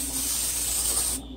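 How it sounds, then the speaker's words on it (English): Coconut cooking spray hisses from an aerosol can into a non-stick pan in one steady, close burst lasting about a second before cutting off. "I'm just going to use a little"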